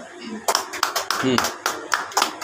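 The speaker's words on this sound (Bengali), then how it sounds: "সবাই একটু জোরে হাততালি দিন।" Audience applause at an International Women's Day gathering of a human rights organisation: bursts of hand clapping that swell and fade in uneven waves, with a voice speaking briefly over it.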